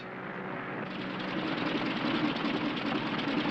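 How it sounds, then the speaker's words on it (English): Airplane engine in flight developing engine trouble, a loud continuous rough droning buzz with an uneven, faintly sputtering texture that swells slightly, heard alone. "Engine trouble, sir. We'll have to go back to the field."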